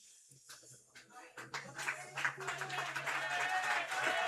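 A baseball crowd's applause for departing pitcher Mason Davies at a Olean Oilers versus Batavia Muckdogs game builds from scattered claps into sustained, moderately distant clapping, while an announcer talks over it.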